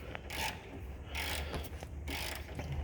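Hand ratchet working on a bolt during a motorcycle clutch job, giving bursts of rasping, clicking mechanical strokes in an irregular rhythm, close by and fairly quiet, with no talk.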